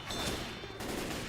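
Dense, continuous burst of gunfire in a game firefight, loud rapid shots overlapping in a sustained fusillade with machine-gun-like bursts, no talking.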